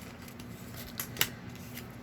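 A quick slicing stroke as a cutter runs through paper at a crafting table, one short crisp rasp followed by a sharper snip, close and fairly quiet.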